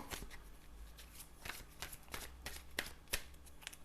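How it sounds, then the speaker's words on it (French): Tarot cards being drawn and handled: a steady run of crisp paper riffles, slides and flicks, close and clear, with a brief voice heard once. "On va aller les chercher, ces cartes."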